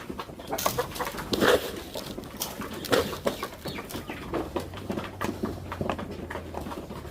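Grown chickens in a home coop cluck in scattered short calls amid rustling and wing flutters, a couple of louder bursts standing out over a low hum.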